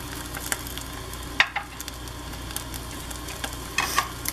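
An egg fries in a skillet with a steady low sizzle, broken by a few sharp scraping clicks as the spatula flips it, then a louder crackle near the end; no one speaks.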